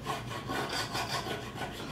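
A 5-in-1 tool scrapes glue squeeze-out off wood for a bench top, making a close, rhythmic rasping scrape repeated in quick strokes.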